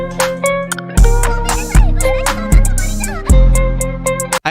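High-pitched vocal chop samples in a trap beat made in Cakewalk, bright chirpy stabs in a quick rhythm over booming 808 bass hits, loud and close with no talking.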